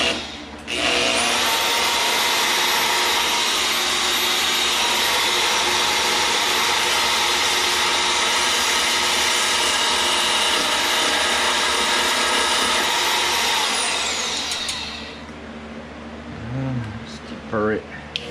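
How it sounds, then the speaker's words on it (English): A Jet metal band saw cutting runs at a loud, steady, high whine with broadband noise for about fourteen seconds, then winds down and stops, followed by faint handling clatter. "I'll cut this down real quick."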